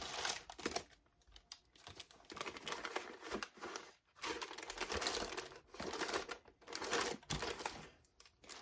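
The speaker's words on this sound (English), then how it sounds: "sorry for all the rustling." Crinkly plastic and paper rustling while someone digs through a pack of stickers, close and fairly quiet, in irregular bursts with brief pauses between handfuls.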